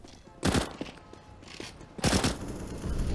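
Counter-Strike gunfire on the Overpass map during a competitive match: two short bursts of rapid shots about a second and a half apart, moderately close, with a commentator's voice running underneath.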